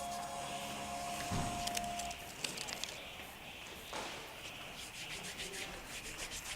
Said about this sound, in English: give the adhesive a little rub